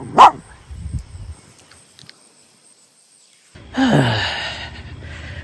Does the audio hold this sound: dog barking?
yes